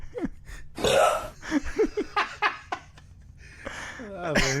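Recorded burps played back from an iPad on a podcast, a string of short croaky belches with giggling and laughter breaking in between, fairly close, ending on a longer drawn-out burp.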